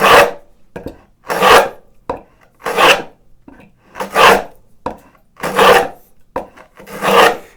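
A hand saw cuts across the grain of a piece of wood, with steady rasping strokes, about ten loud, close, rhythmic back-and-forth pulls with short pauses between them.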